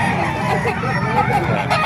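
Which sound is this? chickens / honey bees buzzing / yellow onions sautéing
chickens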